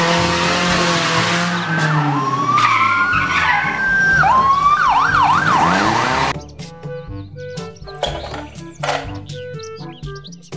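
A toy police patrol car's electronic siren wails and whoops loudly in rising and falling sweeps, then gives way to quieter toy sound effects and clicks.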